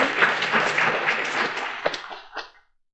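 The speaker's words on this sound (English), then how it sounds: "Please, round of applause to our..." Audience applause at a Ukrainian business panel event on war and business, a dense wash of many hands clapping at steady volume for about two and a half seconds before tapering off into silence.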